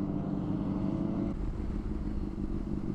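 Yamaha FZ motorcycles pass by on a road, their engines a steady moderately close drone that shifts in pitch halfway through, with no talk over it.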